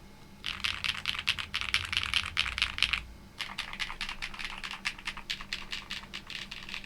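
Rapid keystrokes from a full-foam mechanical keyboard with long pole switches and GMK keycaps, heard up close as two dense stretches of clacky typing split by a brief gap.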